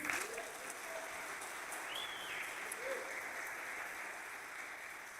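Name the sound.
church congregation applause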